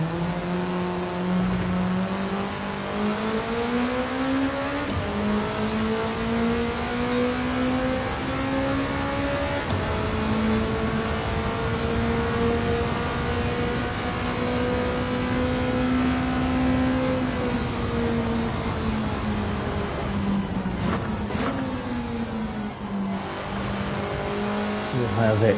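A Ferrari Mondial's engine drones steadily in a Gran Turismo 7 race, its pitch rising and easing through long held gears with a brief shift near the end, close and continuous throughout.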